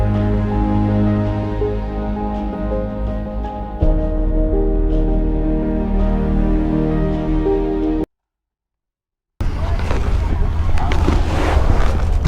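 A trawler chugs past on the Bay of Bengal, its steady droning diesel hum carrying over wind noise, cut briefly by silence before wind-buffeted waterside ambience, with people talking.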